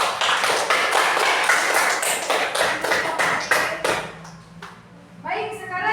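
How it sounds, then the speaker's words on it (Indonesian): A classroom group claps together for about four seconds after a student group's presentation, dense and close, then fades as children's voices and a teacher start talking. "tepuk tangan buat kelompok B"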